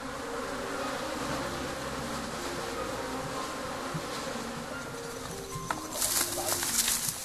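A steady, dense buzzing of many honeybees around modern hives in Tigray, Ethiopia fills the background, continuous and fairly loud, with a few brighter rustling bursts near the end.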